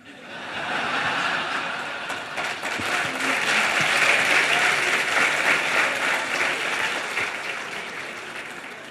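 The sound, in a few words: audience applause at a lecture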